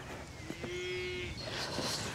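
A heifer with a bucket stuck over her head lets out a single drawn-out moo outdoors on a farm, fairly faint against steady wind and background noise.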